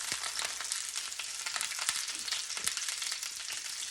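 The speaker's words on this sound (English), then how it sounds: "while my pork loin is browning" A pork loin roast browns in a hot greased pan with a steady, close sizzle. Scattered crackles and pops of fat run through the whole stretch, and no one speaks.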